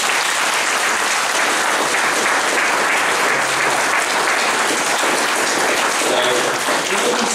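An audience at a Wirral Council constituency committee meeting breaks into sustained, dense applause that fills the room evenly throughout, with a few voices faintly mixed in.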